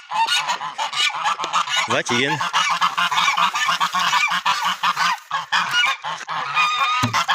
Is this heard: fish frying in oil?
no